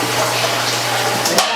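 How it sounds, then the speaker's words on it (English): Soapy rinse water poured out of a stainless Ss Brewtech brewing unitank, a steady close gush with a faint hum underneath and a brief splash near the end. "We're actually still getting a little soap suds, so I'm going to dump that real quick."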